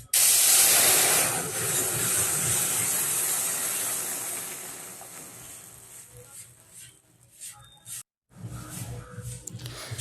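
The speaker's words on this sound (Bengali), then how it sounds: "এবার আমি ডালটা ঢেলে দেব।" Cooked mung dal with green peas is poured into a pan of hot oil and cumin tempering, giving a loud, close burst of hissing sizzle that gradually fades, then a brief silence and softer bubbling.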